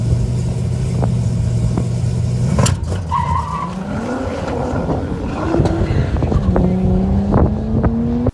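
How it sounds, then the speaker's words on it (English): A ZZ502 big block Chevy engine with a lean misfire from an intake air leak, idling and revving unevenly with rough stumbles, loud and close, with wind noise on the microphone. "what that is right there is lean misfire"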